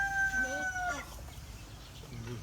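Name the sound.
hen clucking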